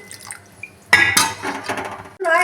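Water rinsed from a bowl is poured into a pan of kochur dhokar dalna curry, a brief splashing pour with clinks of metal cookware, starting after a short quiet pause and followed by another clatter near the end.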